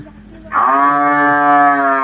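A cow gives a single long, loud, steady moo in a cowshed in Wagholi, close by and sustained for well over a second with no talk over it.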